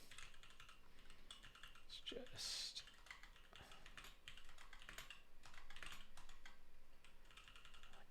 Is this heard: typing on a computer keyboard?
yes